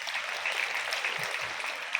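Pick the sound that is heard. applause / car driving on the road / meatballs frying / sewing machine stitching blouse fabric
applause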